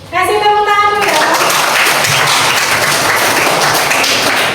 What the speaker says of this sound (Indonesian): kasih tepuk tangan dulu ya